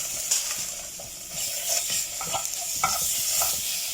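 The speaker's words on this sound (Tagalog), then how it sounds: "igisa-gisa lang natin siya" Vegetables sautéing with tomato paste in a pan for a vegetable soup, a steady close sizzle with repeated stirring scrapes of a utensil against the pan, no voices.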